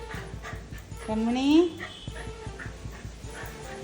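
A dog lets out a rising, nasal whimper lasting about half a second, close by, with a person speaking around it and soft panting in the background.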